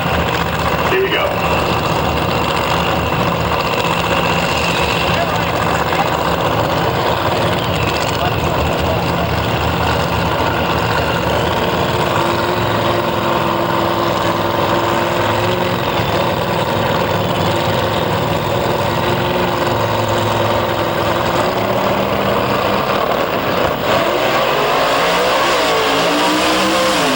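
A Buick-powered Beretta drag car with a 706 cubic inch engine roars loudly and continuously at a drag racing event, its dense engine noise dominating throughout, with a commentator talking over it.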